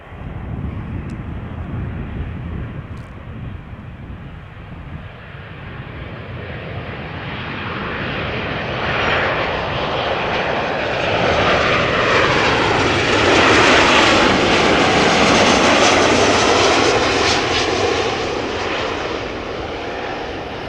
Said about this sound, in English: Boeing 737-900 ER, 9 years old.